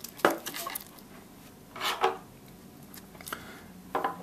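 Lid coming off a plastic hard drive enclosure, a few sharp clicks and clattering knocks spaced across a couple of seconds, close and moderately loud, with no talking.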